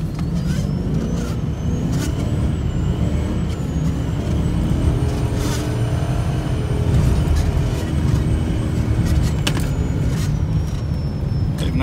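A V8-powered BMW 540 drives across snow on a frozen lake, its engine a steady low rumble throughout with wind and tyre noise, close and continuous, no talk.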